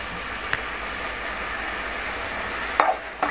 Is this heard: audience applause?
no